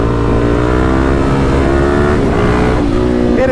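A Suzuki DRZ400SM motorcycle engine revs hard for a wheelie, loud and close, its pitch climbing and wavering, with no voices.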